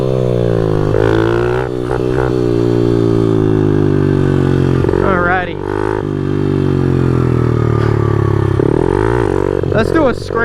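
A Honda Grom motorcycle engine bogging and revving unevenly, loud and close, with pitch dips and surges under a rider's talk.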